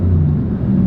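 BMW M4 LCI Competition engine working in second gear, a short burst of loud, deep, continuous engine roar heard from close by, with no voices.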